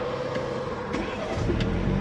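A car drives along the road with a steady, fairly loud engine rumble and tire roar that holds throughout, close by, with no talking.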